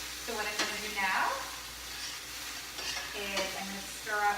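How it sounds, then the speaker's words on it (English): Teriyaki sauce sizzles in a hot pan while being stirred, with bursts of scraping and spitting fry noise recurring over a few seconds, close and moderately loud. "I'm going to stir up my teriyaki sauce. I'm just going to add that to the pan. So a little bit of sizzle."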